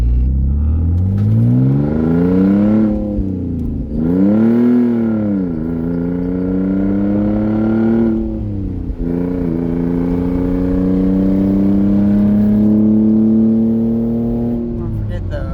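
An Audi A4 with its exhaust cut off roars as it accelerates, engine pitch climbing and dropping sharply with each gear shift, loud and raspy from inside or near the car, with people talking over it.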